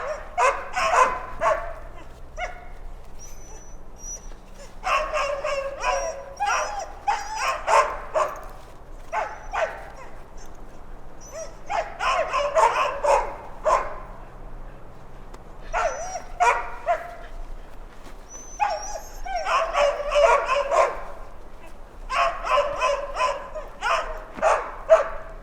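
A dog on a harness line barks and whimpers in repeated bursts, close and fairly loud, with people talking around it.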